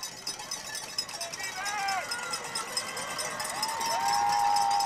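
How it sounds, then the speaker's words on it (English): A home crowd at a high school Division IV championship football game, Placer Hillmen against Center Cougars, roars on a fourth-down play, a dense wash of cheering that swells louder toward the end beneath a commentator's steady talk. "now you hear the Placer crowd getting into it. They want this stop."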